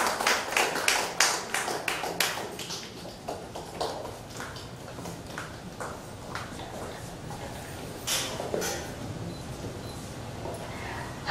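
A crowd applauds at a ceremony of a crafts and arts association's members' exhibition in a gallery, with dense clapping loudest at the start that thins to a softer patter and swells again briefly.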